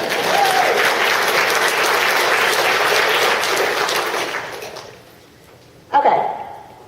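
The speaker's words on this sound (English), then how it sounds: "you guys should be clapping for that" An audience at a Kansas City regional business meeting claps loudly and steadily, the applause tapering off over a couple of seconds before a speaker's voice comes in.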